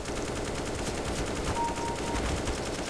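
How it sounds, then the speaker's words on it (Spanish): Rapid machine gun fire in a video game match, a dense continuous burst of shots filling the whole stretch at steady loudness, with no talking over it. "Parece que hay una ametralladora"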